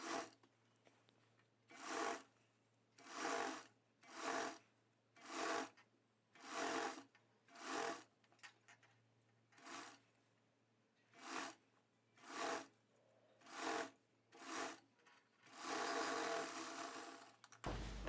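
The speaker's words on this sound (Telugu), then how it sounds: "ఇలా స్టిచ్చింగ్ చేసుకుంటూ మళ్ళీ డబుల్ స్టిచ్ వేసేసుకోవాలి." A sewing machine stitches a blouse lining in about a dozen short, even bursts of whirring separated by brief pauses, heard close and alone with no voices.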